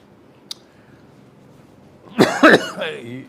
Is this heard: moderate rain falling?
no